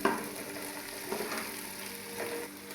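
Ginger garlic paste, added frozen, sizzles and fries steadily in a pan with occasional stirring scrapes, quiet and close, no voices.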